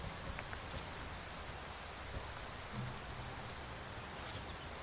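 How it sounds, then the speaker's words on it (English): Steady rain falls throughout in the game Skyrim, an even, hissing wash of drops that stays constant and fairly soft, with no talking. "Something so beautiful about the rain."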